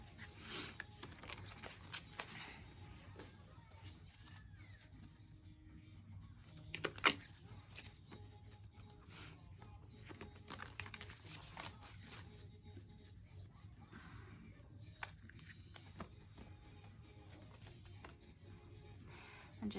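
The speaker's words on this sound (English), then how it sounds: "And just shuffling and shuffling and shuffling." A Rider-Waite tarot deck is shuffled over and over, soft papery riffles and taps repeating quietly and close, with faint rustling and occasional sharper clicks against a low background hum.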